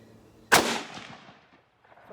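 A single sharp, loud rifle shot from an Arisaka Type 99 firing 7.7 Japanese ammunition, with a long decaying echo rolling off over about a second outdoors.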